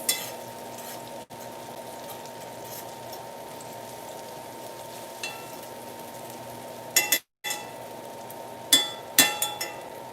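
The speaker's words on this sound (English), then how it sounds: "I'm gonna continue to cook down these mushrooms and onions." Mushrooms and onions cooking down in a pan, a steady low sizzle and hiss with occasional clinks of a utensil against cookware.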